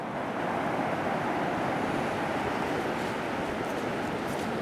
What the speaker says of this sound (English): There's a big northerly swell out there now today.